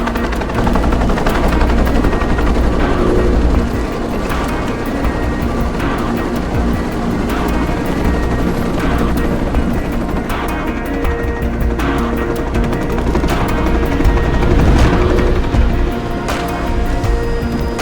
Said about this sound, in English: Nishimura's got a chopper outside waiting for you